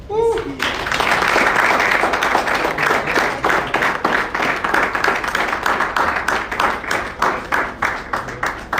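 A crowd at a professional assembly breaks into applause after a brief spoken start, building into dense, sustained clapping whose individual claps become more distinct and rhythmic as it continues.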